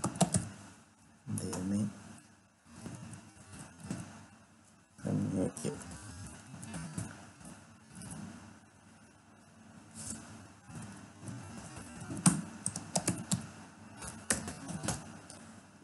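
Light keyboard typing with scattered clicks and taps under a person talking, the keystrokes faint and irregular.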